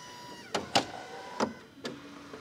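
Electric motors whir as a Mercedes raises and lowers its rear wing and body, several distinct whining bursts with short pauses between them, fairly quiet and close.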